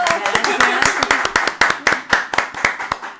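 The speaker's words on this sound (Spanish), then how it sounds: "Un aplauso." A crowd claps steadily, many hands beating in quick irregular succession, loud and close, with a murmur of voices underneath.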